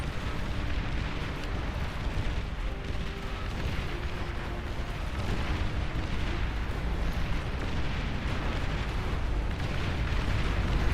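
Dense, continuous explosive rumble from a large real-time strategy battle in Beyond All Reason as the enemy commander unit is destroyed, loud and sustained with layered booms and no voices.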